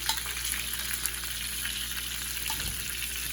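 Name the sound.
corn pieces searing in a hot pan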